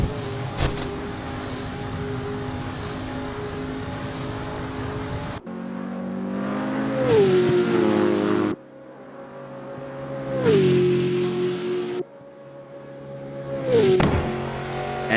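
A historic Mercedes-Benz race car in the Assetto Corsa racing game at a Halle-Saal circuit: the engine drones at a steady pitch, then climbs through three loud revving pulls, each falling as the driver shifts up.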